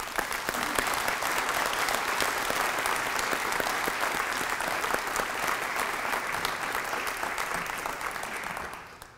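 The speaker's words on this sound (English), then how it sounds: "let's give our family members a round of applause" Sustained audience applause for soldiers' family members at a military retirement ceremony, dense even clapping from a large crowd that holds for several seconds and then fades out at the end.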